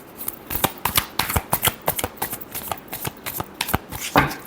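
Tarot cards are shuffled by hand in a rapid string of crisp riffling bursts and soft slaps, close and fairly quiet, with no talking.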